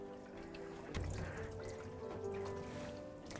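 Water sloshes and trickles in a washing tray as a cyanotype print is rinsed of unexposed solution, a soft steady liquid wash with a brief louder splash near the start.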